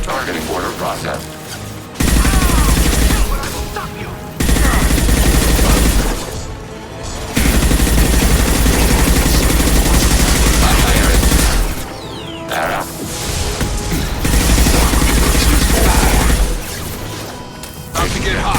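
Gunfire in the Mass Effect 2 video game comes in long sustained bursts separated by short pauses, loud and dense, with heavy low impacts, and game voices speak between volleys.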